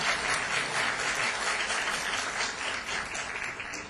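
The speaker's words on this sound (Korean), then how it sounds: "네, 박수로 환영해 주시기 바랍니다." An audience claps steadily throughout as a guest is introduced at a commemorative ceremony marking an anniversary of the October 4 inter-Korean summit, a dense and continuous round of applause without speech.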